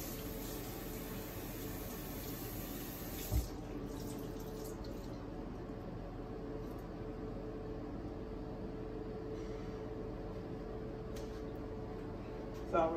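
Tap water runs steadily and evenly at close range while hands are washed at a home sink, a continuous hiss lasting throughout with one brief knock partway.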